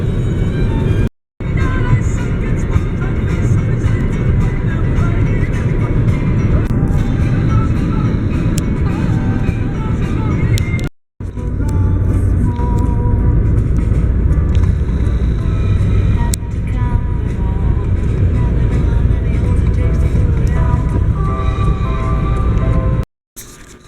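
A car drives through snow on a Virginia road, a steady low rumble of engine and tires throughout, broken by two brief cuts, with voices talking over it at times.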